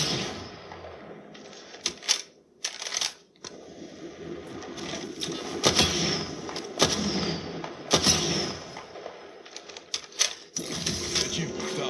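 Video game gunfire, bursts of sharp rapid shots in short clusters separated by brief gaps, fairly close and loud over a faint background.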